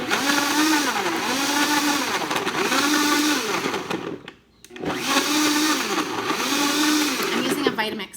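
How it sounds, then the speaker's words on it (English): A Vitamix blender whirs loudly with oil for raw vegan chocolates, running steadily in two bursts separated by a brief pause around the middle. "using a Vitamix, which blends things really nice and easy"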